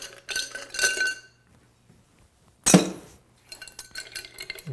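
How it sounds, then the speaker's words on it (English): Ice is dropped into a cocktail mixing glass holding a Derby cocktail with Angostura bitters: one sharp, loud clattering burst of cubes striking glass, set between quieter clinks and handling noises. "Add our ice."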